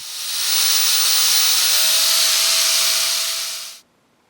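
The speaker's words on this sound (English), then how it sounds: "I did some rough smoothing with the angle grinder before adding any more pieces." An angle grinder smooths the metal parts of a sword, giving one loud, even, high hiss with a faint steady tone that runs for nearly four seconds before cutting off abruptly.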